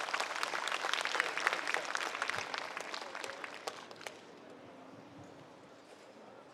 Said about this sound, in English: So big round of applause for Glenn.